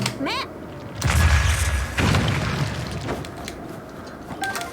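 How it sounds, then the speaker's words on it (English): Bomb blasts in a Zelda game, two deep booming thuds about a second apart, loud and close, followed by a rumbling tail under a voice talking. "Bombs are a great way to deal with these things. Boom."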